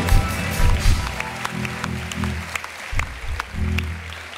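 A studio audience on a Turkish talk show applauds, clapping steadily under loud low-frequency music or rumble for a few seconds.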